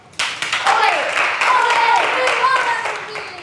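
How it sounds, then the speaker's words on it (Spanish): A classroom of students claps in a burst of applause that starts abruptly and carries on at a steady level, with voices talking and calling out over the clapping. "Aplauso."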